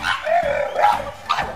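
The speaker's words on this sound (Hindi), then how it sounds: "कितना भौंक रहा, कितना गला फाड़ रहा," An American Bully dog barks and yelps in quick repeated bursts nearby, loud and insistent, with no talking.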